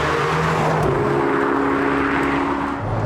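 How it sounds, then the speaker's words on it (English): Turbocharged engine exhaust of a Ferrari 488 Pista Spider drones loud and close with steady rising tones, no talk over it. "I love the different noises out the exhaust as well."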